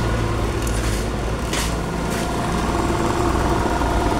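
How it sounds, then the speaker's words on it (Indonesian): A Yamaha NMAX scooter with an ACG starter gives a steady mechanical whir and hum while the engine stays still, running continuously at moderate loudness with faint clicks and no voices. "Ini bersuara namun mesin seperti tidak gerak Pak ya."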